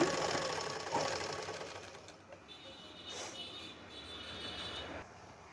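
An ordinary domestic sewing machine stitching the edge of a saree, running in quick rapid bursts that fade into softer intermittent whirring, close and fairly quiet.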